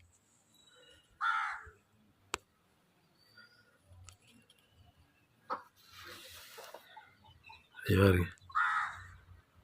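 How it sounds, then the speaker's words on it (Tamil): Harsh crow caws ring out a few times overhead, mixed with a person speaking and scattered rustling noises. "மேலே காக்கா வந்து சுற்றிக்கிட்டு இருக்கு."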